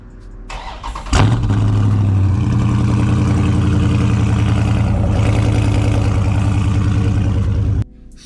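A 2019 Dodge Charger Scat Pack 392 with catless mid-pipes cold starts with a sharp crank and bark, then settles into a loud, steady, rumbling high idle for several seconds before cutting off.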